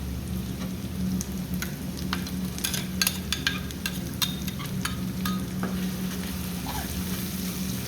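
A paste of garam masala, turmeric, chili powder, ginger-garlic, cumin paste and salt fries and is stirred in a pan for murighonto, a steady close sizzle broken by sharp spatters and scraping stirs, with no talking.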